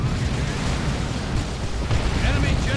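A psych-out grenade bursts in a Dawn of War 2 Space Marines battle, a rumbling, crackling blast amid constant combat noise, with a commentator talking over it.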